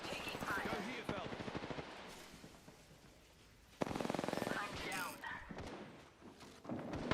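Automatic gunfire from the video game Apex Legends rattles in rapid bursts, with a sharp loud burst midway and thuds, mixed with game voice lines and talk.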